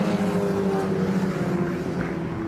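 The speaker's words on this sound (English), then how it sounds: "Here they come. Listen to the roar." Racing car engines roar loudly past during qualifying at Donington, a steady, dense mechanical drone that fills the short stretch.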